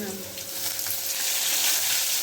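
Ginger, garlic, curry leaves and mustard seeds sizzle in hot oil for a squid dish, a loud, dense, continuous close-up hiss and crackle that swells slightly toward the end, with no voices.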